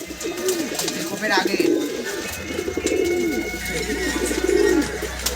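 Madrasi pigeons at a pigeon sale give low, rolling coos, several of them overlapping close by against a steady background hum, with a voice talking faintly underneath.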